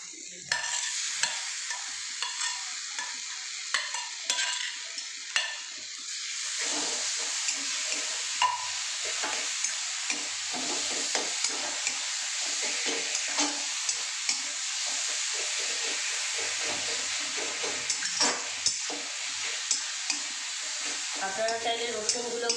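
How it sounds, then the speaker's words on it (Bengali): A spoon stirs and scrapes eggplant with chili powder and spices in a hot pan. A steady, fairly quiet sizzle runs throughout, with frequent clinks and scrapes, and brief speech is heard. "একটু 1-2 মিনিট নেড়ে নিই,"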